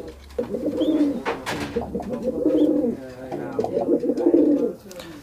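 Pigeons from a breeding pair coo close by in three drawn-out, throaty rolling phrases with short gaps between them, and a faint shuffle at the end.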